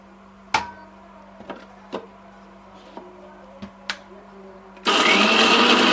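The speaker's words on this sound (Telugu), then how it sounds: "అంతా మిక్సీ పట్టేసుకుంటాం ఊరికే కొద్దిగా కచ్చాపచ్చాగా" After several sharp clicks and knocks, a mixer grinder suddenly starts up coarsely grinding with a loud, high-pitched whirring roar that continues steadily.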